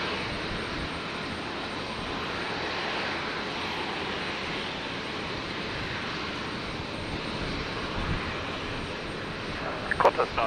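Qantas airliner passing over Brisbane Airport on a stormy night, a broad steady engine roar that holds at even loudness throughout, with faint scattered knocks near the end.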